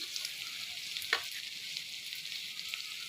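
Salt, ginger and garlic paste and spices frying and being stirred in a pan, a steady close sizzle with a brief scrape of the spoon partway through.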